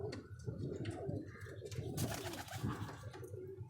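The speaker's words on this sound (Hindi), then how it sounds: "ये लाखे कबूतर हैं मेरे।" Lakha breed pigeons, kept as high-flying birds, coo steadily at close range. Low, rolling calls overlap throughout with a few brighter chirps and rustles mixed in.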